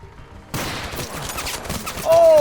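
Rapid gunfire erupts in the war game Total Conflict Resistance after a half-second of quiet, a dense run of overlapping shots followed by a rising whine at the end.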